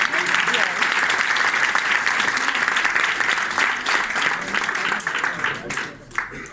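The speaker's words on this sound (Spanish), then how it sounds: "Vamos a darle un aplauso." Sustained applause from a large audience at a business event in Barcelona, a dense steady wash of clapping lasting several seconds and thinning slightly near the end.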